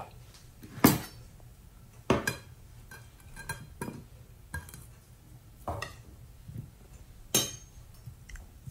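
A knife cutting washed taro roots (kochur mukhi) on a board, irregular sharp taps and clicks spaced a second or so apart, close and fairly quiet.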